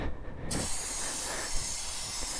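Aerosol chain cleaner sprayed onto a cold motorcycle chain on a sport bike, a steady close hiss that starts after a short lead-in and holds evenly to the end.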